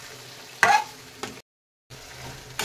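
Chicken kosha being stirred in a pan after tomato paste and fried spices are added, with a couple of sharp scraping, sizzling strokes, a brief total silence, then soft frying resuming underneath.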